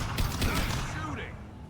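Video game gunfire, a short burst of rapid shots from a Mass Effect battle, mixed with a voice and clattering effects.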